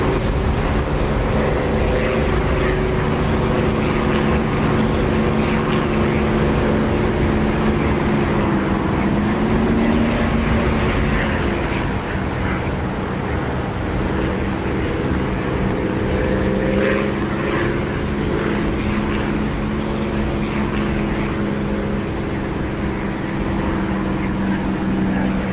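An aircraft engine drones steadily as the plane comes in to land in the DCS flight simulator, a loud continuous propeller-like hum with slowly shifting pitch that holds for the whole span, no voices over it.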